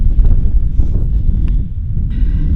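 Steady low rumbling wind buffeting the microphone outdoors, loud and continuous, with a brief higher whine near the end.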